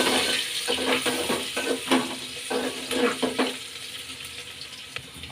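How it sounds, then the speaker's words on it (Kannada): Garlic, ginger and green chili frying in a pan: a continuous sizzle with a series of scraping stirs and clinks in the first few seconds, easing to a softer hiss near the end, with no talking. "ಈಗ ಬೆಳ್ಳುಳ್ಳಿ, ಶುಂಠಿ, ಹಸಿಮೆಣಸಿನ್ಕಾಯಿ ಸೇರಿಸ್ಕೊಳ್ಳೋಣ."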